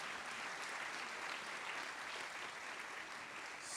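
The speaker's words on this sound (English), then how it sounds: "Give a round of applause for yourself." An audience at a live interview event applauds and cheers continuously, a dense, steady wash of clapping from a full room that holds an even level throughout.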